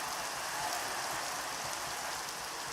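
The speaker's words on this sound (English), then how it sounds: "This rain though. Rain's gotta go." Steady hiss of rain in Minecraft falls without a break, an even wash of dense drops with no other sounds.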